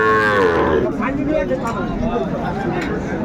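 A cow with a calf gives a loud, drawn-out moo close by at the Raniganj cattle market, then lower bellowing continues amid a busy crowd murmur.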